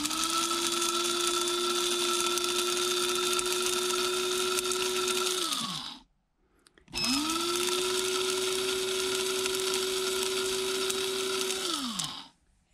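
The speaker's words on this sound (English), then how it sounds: "Here is the Chiiłchin in the coffee grinder. Now we are going to proceed to grind." Coffee grinder grinding half a cup of sumac berries (Chiiłchin) in two long, high whirring bursts, each winding down before a short pause, loud and close with no talk.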